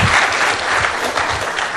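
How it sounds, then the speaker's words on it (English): Dense, steady applause from an audience at a startup talk event, loud and close, continuing without a break. "Big round of applause for Amrinder."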